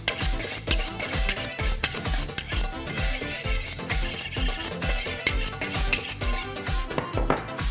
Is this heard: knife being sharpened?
yes